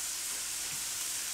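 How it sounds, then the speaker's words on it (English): Onions and carrots sizzle in a hot frying pan with a steady, soft hiss of frying vegetables, continuous and close with no talk. "And put the onions in. We're going to put our carrots in."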